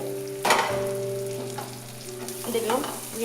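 Onions fry in a pan for a Bengali-style prawn curry, giving a steady sizzle with occasional stirring scrapes and clatters, close and moderately loud.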